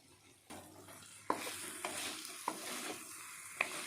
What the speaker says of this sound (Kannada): ಕೊತ್ತಂಬರಿ ಸೊಪ್ಪು ಹಾಕಿ ಮಿಕ್ಸ್ ಕೊಡ್ತಾ ಇದ್ದೇನೆ